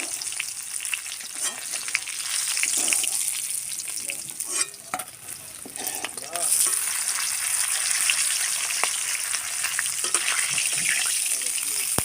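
Rohu fish pieces fry steadily in hot mustard oil in a pan, a dense, continuous close sizzle with bubbling crackle and occasional stirring noises throughout.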